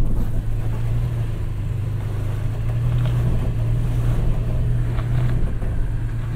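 2022 Toyota Tacoma TRD Pro engine accelerating gently, a steady low hum that holds at a fairly even level throughout, with no talk heard.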